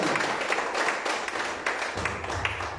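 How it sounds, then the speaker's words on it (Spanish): A church congregation claps in a steady, moderately quiet burst of applause during a Spanish-language sermon, with scattered taps and faint voices beneath. "Denle un aplauso al Señor"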